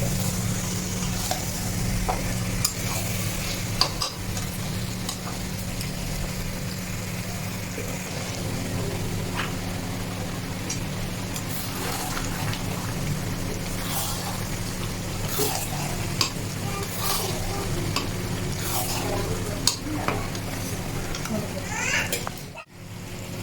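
Chicken kasha being stirred and sautéed over a medium flame: a steady sizzle with repeated spoon scrapes and clinks against the pan, heard close throughout, with children's voices faintly in the background.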